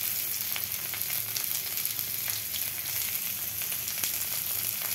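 Carrot and red bell pepper fry in a pan with an even, continuous sizzle that stays close and steady for several seconds, broken by a few light stirring scrapes, and nobody speaks.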